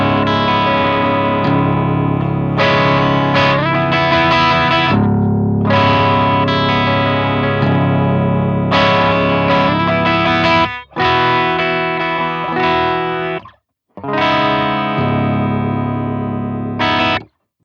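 A Legator N9F nine-string electric guitar plays chords through heavy effects, distorted and chorused, ringing loudly with a few abrupt pauses between phrases.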